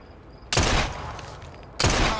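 Two loud, close gunshots from Assassin's Creed Syndicate, each a sharp blast trailing into a reverberant decay, spaced about a second apart.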